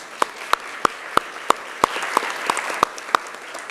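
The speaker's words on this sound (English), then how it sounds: "So at this time, will everyone clap?" A slow, evenly spaced clap repeats about ten times at a town board of mayor and aldermen meeting, each crisp, with faint crowd applause rising softly underneath.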